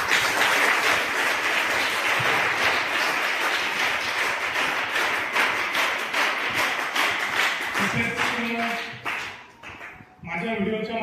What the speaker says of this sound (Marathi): त्यांच्यासाठी पण जोरदार टाळ्या.